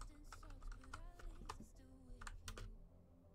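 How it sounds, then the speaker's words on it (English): Fast clicking on a computer keyboard sounds in irregular bursts over a low background rumble and muffled game or room noise, fading toward the end. "Sorry, I'm typing in a video."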